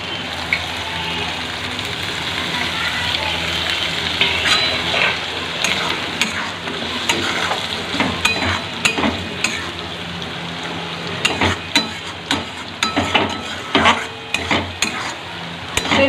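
Lote fish (Bombay duck) frying in oil in a pan, a steady loud sizzle with scraping stirring strokes growing sharper and more clattery toward the end, no talk.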